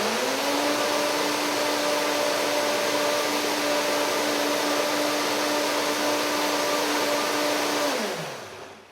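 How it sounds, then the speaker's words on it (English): A Vitamix blender runs steadily at high speed, blending a creamy chipotle ranch dressing, a loud continuous whir with a stable motor tone that winds down and stops near the end. "I'm going to give this a couple more seconds in the Vitamix here."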